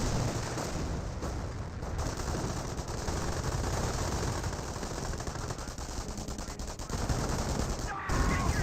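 Company of Heroes infantry battle with grenadiers engaging a rifle squad: dense, continuous machine-gun and rifle fire rattles loudly throughout, with a brief lull near the end and a commentator talking over the shooting.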